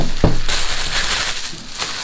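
Paper wrapping crumpled while unboxing a Marvel Crisis Protocol miniatures game: a loud thump, then a sustained close crinkling rustle with a few sharper crackles.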